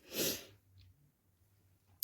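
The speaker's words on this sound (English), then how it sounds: "I've just had the most almighty sneeze" A single loud, close human sneeze bursts out at the start, followed by quiet breathing and a faint click at the end.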